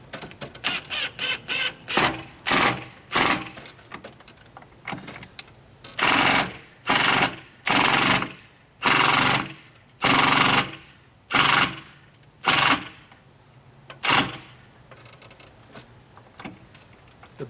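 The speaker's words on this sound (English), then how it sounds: "The beauty of the impact drill." A cordless impact drill drives a screw into a stucco wall for a heavy-duty flagpole bracket: a string of loud, rattling hammering bursts, each about half a second to a second long, separated by short pauses.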